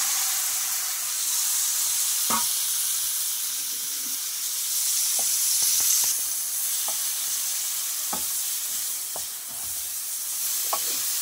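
Chopped vegetables frying in hot spiced oil for a masala pasta, a steady close sizzling hiss with intermittent sharp clinks and scrapes of stirring, no voices.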